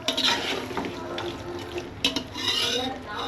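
Water is poured into a pot of mutton biryani masala and meat. Splashing and stirring come in bursts with clinks of a vessel, close and fairly loud.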